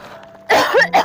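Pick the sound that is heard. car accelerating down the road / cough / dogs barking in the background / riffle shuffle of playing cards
cough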